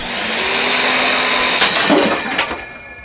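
A router cuts into a PVC fitting to make wood plugs, a steady whirring hum that turns rough and ragged with sharp bursts of grinding chatter near the end, loud and close.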